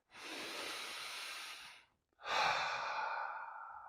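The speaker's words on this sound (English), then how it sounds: "Just take a deep breath." A deep breath taken during a guided breathing moment in a leadership talk: a long, airy inhale for about two seconds, a brief pause, then a full, strong exhale, close and clear with no talking.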